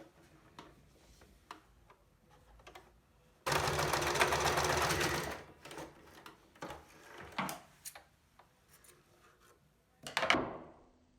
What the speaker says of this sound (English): You want to grab your fabric and start sewing these loops to the outside face.